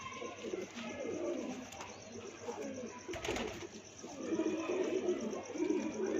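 Pigeons coo close by in soft, repeated throaty calls over background noise, with a brief flutter of movement partway through.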